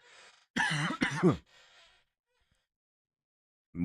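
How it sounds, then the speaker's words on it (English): A person coughs and clears their throat in a few rough, close bursts during a livestream of a League of Legends MSI match, followed by quiet. "Why am I coughing?"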